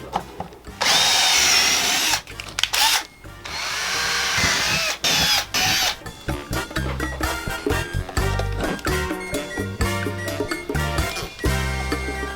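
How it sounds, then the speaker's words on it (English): A power drill pre-drilling a hole inside a 2021 Ford Explorer whirs loudly up close in several bursts, stopping and starting, with clattering handling noises between runs and no talking. "I'm gonna pre-drill this hole too"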